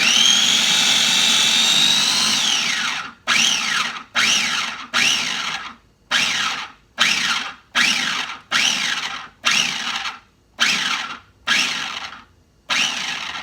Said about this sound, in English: so you're going to blend this up first